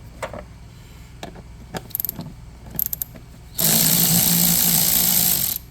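Ratchet turning a 10 mm bolt on an air hose fitting of a Mitsubishi Mirage engine, scattered close clicks and taps followed by a loud, continuous rasping burst of rapid ratcheting lasting about two seconds, with no talking.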